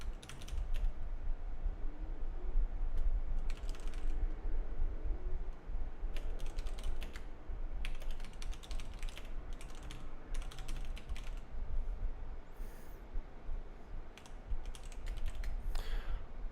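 Keys clatter on a computer keyboard in steady bursts of close, crisp taps with brief pauses between runs, over a constant low background hum and with no talking.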